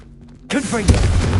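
A Confringo fire spell blast in Hogwarts Legacy erupts suddenly with a loud burst and booming impact, followed by crackling, rumbling debris over a low hum.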